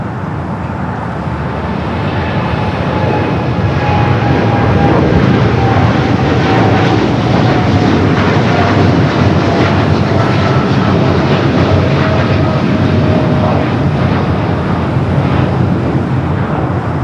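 Boeing 787 Dreamliner airliner taking off from the south side runway at Los Angeles airport, a loud, sustained broadband engine roar with a slowly falling whine, steady and powerful throughout.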